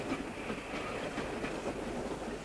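London Transport steam train working the Metropolitan line's Chesham branch shuttle, a steady close rumble of rolling coaches with faint clickety-clack wheel rhythm and no voices.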